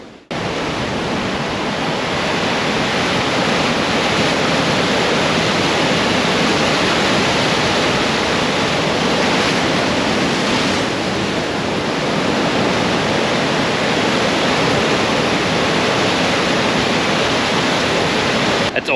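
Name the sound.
ocean waves crashing on rocks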